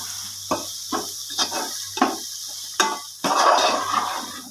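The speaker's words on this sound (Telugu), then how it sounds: "కారం వేసిన తర్వాత మొత్తం కలిపి" Broad beans dusted with chili powder are stir-fried in a pan, giving a series of separate scraping stirs followed by a louder, steady sizzle near the end.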